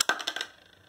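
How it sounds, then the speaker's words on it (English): A few coins clink in quick succession as they drop through the slot of a Sharper Image digital counting money jar, loud and close, then fading into a quiet tail. "So you insert your coins through the slot"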